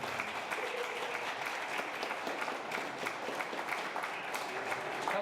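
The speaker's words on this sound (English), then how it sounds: "That's probably a sympathetic round of applause, Sylvia" An audience at a retirement celebration claps in a dense, sustained round of applause that holds at an even level throughout, with faint crowd murmur mixed in.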